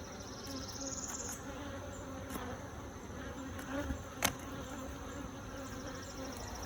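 Honey bees swarm and buzz around beehives in the aftermath of a bear attack, a steady close drone with a few sharper passes, in the open without talk.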